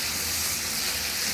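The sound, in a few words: dal spice paste sizzling in oil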